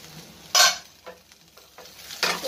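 Ash gourd stems cook on low heat in a covered pan with a soft, steady sizzle, broken by a few louder scraping stirs or lid clatters, no voices.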